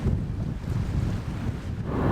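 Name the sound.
wind blowing on the Scottish highlands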